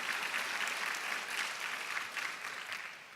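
Applause for faculty and staff at a commencement ceremony fills the room, a steady sustained clapping from a large audience heard from a moderate distance.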